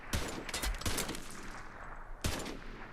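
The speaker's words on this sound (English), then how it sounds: "We are getting shot at." Gunfire aimed at the player in a video game, a few sharp bursts of shots spaced across the moment, fairly close and loud against a quiet background.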